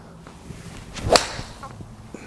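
A Titleist 718 AP3 iron strikes a golf ball once, giving a single sharp, fairly loud crack with a brief swish around it, set against a quiet background.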